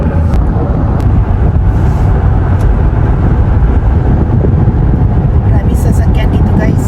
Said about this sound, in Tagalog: Maraming sasakyan dito guys.